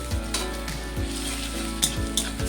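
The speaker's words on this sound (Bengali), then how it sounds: "রসুনের কাঁচা গন্ধটা যতক্ষণ না যাচ্ছে একটু ভেজে নেবো" Garlic paste frying in a pan with chopped onions and green chillies, a steady close sizzle with a few louder spatters and stirring scrapes every second or so, no voices.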